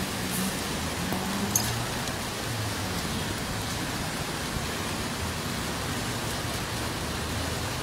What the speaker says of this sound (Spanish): Nosotros seguimos en medio de esta lluvia acá en la ciudad de Cali